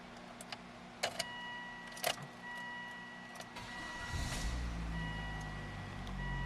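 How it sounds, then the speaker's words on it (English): A 2003 Volvo XC70 Cross Country wagon starts up: a few clicks and chimes, then the starter cranks and the engine catches into a steady low idle, heard close from inside the car. "I'm going to actually start the car up."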